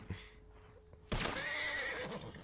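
A horse in Red Dead Online gives a loud, close whinny after a quiet stretch with a faint hoof tap.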